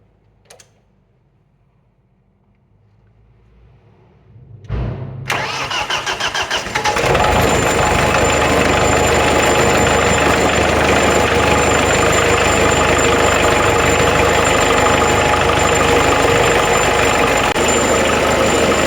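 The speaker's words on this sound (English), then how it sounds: "Firstly, I'll start it up and we can give it a listen." Diesel engine of an old, rusty Thwaites dumper truck cranking over and catching, then settling into a loud, steady, rattling idle that runs on without pause.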